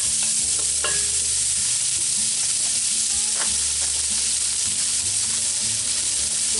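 Chorizo slices or chunks sizzle loudly in a Dutch oven, a dense, continuous frying hiss with scraping stirs and occasional knocks heard close up, with no talking.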